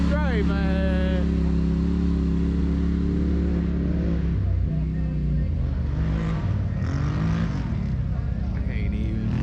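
Stage 5 tuned turbo Polaris RZR side-by-side accelerating hard in a drag race at Red Oak Hollow, a loud continuous engine roar with rising and shifting pitch, close by, with people talking over it.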